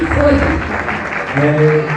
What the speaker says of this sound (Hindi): जोरदार तालियां लगाएं, तालियां बजाएं।